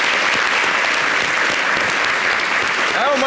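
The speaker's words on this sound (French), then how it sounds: "Evidero qui va regagner son siège sous les applaudissements" Studio audience applause on a French-language TV variety show, La Télé d'Ici, as a guest returns to his seat: loud, dense, steady clapping throughout, with a brief voice rising at the very end.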